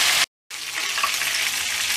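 Bread slices for Adapazarı ıslama köfte fry in a pan with a steady, close, crackling sizzle, broken by a brief silent gap near the start before the hiss resumes.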